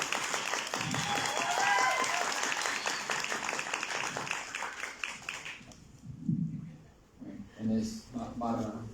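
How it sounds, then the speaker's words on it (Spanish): Audience applause at a book presentation for a new title from a university press: a dense, steady burst of clapping for about six seconds that then dies away as a voice starts speaking. "comencemos entonces esta presentación con un aplauso para Ana y este libro Destilar."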